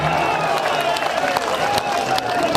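Crowd at a Congress political rally in Kishanganj, noise filling the whole stretch, with scattered claps and cheers under a steady murmur and faint voices.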